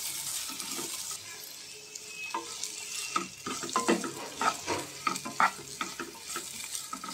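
Foxtail millet upma ingredients with freshly added chopped coriander sizzle in a pan while a spoon stirs and scrapes, the frying hiss steady and close, with clattering strokes growing busier toward the end.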